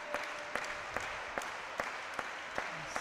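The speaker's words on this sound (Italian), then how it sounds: "Salgono gli applausi per il Conversano" Crowd applause in an indoor arena at a Serie A Gold handball match between Conversano and Cassano Magnago, a steady wash of clapping with sharper rhythmic claps standing out, heard at moderate distance.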